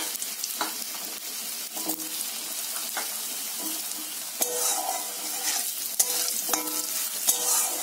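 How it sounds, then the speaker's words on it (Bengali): Diced potatoes fry in hot oil with radhuni seeds, salt and turmeric, a steady sizzle broken by occasional stirring clatter and scrapes, fairly close and moderately loud with no talking. "এবার আলুটা আমি সামান্য লবণ ও হলুদ দিয়ে একটু ভেজে নেব"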